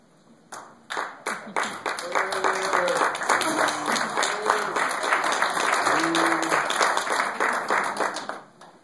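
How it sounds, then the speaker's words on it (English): A small audience at a New Mexico Interstate Stream Commission meeting breaks into applause, individual claps building quickly into steady clapping for several seconds before tapering off, with a few voices mixed in. "I just wanted to stand and applaud you for what you've done"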